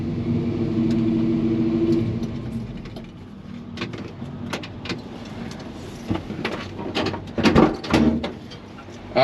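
A Chevy C-10 pickup truck being driven, its engine seemingly flooding when given gas, gives a steady low rumble at first, then fades under rattles, knocks and clunks from the cab.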